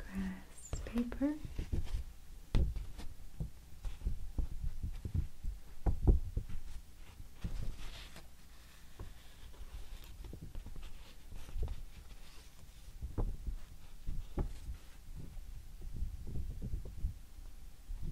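Coarse grass paper is handled close to the microphone in a quiet ASMR setting, producing soft crinkles, rustles and scratchy taps in an irregular, intimate rhythm.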